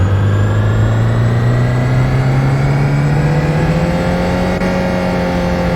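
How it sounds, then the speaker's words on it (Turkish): A steady, loud Ford Transit van engine drone in the video game Euro Truck Simulator 2, rising slowly in pitch as it revs, continuous throughout with no voices. "Araba devirlendikçe sesi değişiyor"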